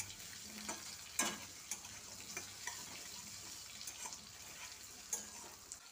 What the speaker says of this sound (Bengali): ফোড়নটা কিছুক্ষণ মেশানো হয়ে গেলে এর মধ্যে টুকরো করে রাখা আলুগুলো দিয়ে দিচ্ছি